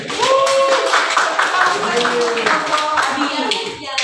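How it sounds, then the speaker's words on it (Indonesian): Students clapping in a classroom during an accounting lesson, loud close rhythmic claps for several seconds with voices heard over them. "tepuk tangan dulu Elin."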